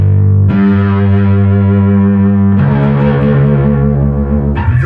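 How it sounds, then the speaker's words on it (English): Electric bass played through a One Control Hooker Screen bass machine distortion overdrive pedal, giving loud, gritty sustained notes with a thick fuzzy edge; one held note gives way to a second, then a third attack near the end, with no talking. "the Hooker Screen bass machine, which is a dirt box, a distortion overdrive."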